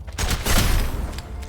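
A gun fires a rapid burst of scattered shots in the video game Cat Quest 3, giving a short, dense crackle of several overlapping blasts.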